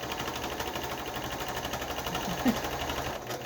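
A sewing machine runs in a steady rapid mechanical whir while stitching elastic onto a fabric face mask, close and continuous without pauses, a faint clunk near the end.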